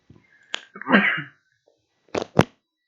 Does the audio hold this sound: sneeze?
yes